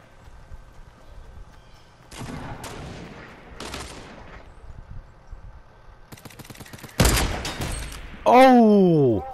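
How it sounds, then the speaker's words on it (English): A sniper rifle shot in the video game Fortnite lands as a loud, sharp crack amid several shorter bursts of gunfire, followed by an excited shout. "I'm probably gonna take a snipe shot first."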